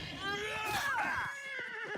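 A horse whinnies loudly in the video game Oblivion, one long rising and falling neigh at close range with faint hoof clops underneath.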